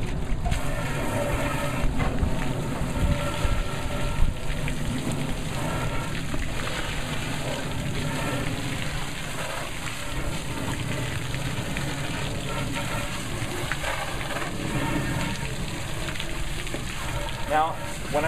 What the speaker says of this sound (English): we're going to do our final rinse. Everything has all suds on it, and we're going to do our final rinsing.